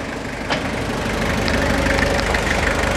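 A Toyota Hilux SR engine idles steadily up close, a low rumbling hum with a faint rhythmic knock, loud and continuous with no talking.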